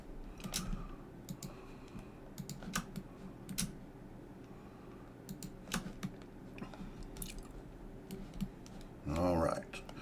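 Scattered computer keyboard key presses and clicks during 3D modeling work on a computer, sparse and fairly close, with a brief burst of other noise near the end.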